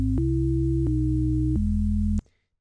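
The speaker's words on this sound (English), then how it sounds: "pitch these oscillators to match key harmonics of the original bass" Serum synthesizer bass built from stacked oscillators tuned an octave and higher above the root, giving a steady buzzy tone that steps through three held notes before cutting off abruptly, loud and alone.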